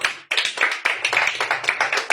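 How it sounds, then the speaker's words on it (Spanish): Brisk, close rhythmic clapping at a church service, a steady run of sharp hand claps from one or a few people, with no voices. "démosle un fuerte aplauso al Espíritu Santo"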